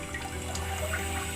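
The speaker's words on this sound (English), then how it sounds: "So now let's turn the knob to the female wash and see the water" Water sprays from the nozzle of a newly installed dual-nozzle toilet bidet set to front wash, giving a steady, soft hissing spatter with no voices.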